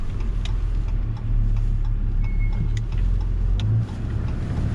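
Ram pickup with a Cummins diesel engine climbing a hill while towing trailers, a steady low drone heard from inside the cab with faint ticking, continuous and fairly loud, no talk.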